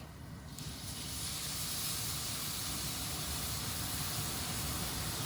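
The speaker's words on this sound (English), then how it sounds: "And now I'm going to add the Guinness." Guinness-style stout poured into a hot pan to deglaze it, hissing as a steady, loud wash of noise that swells after the first half second and holds unbroken throughout, close by and with no talk.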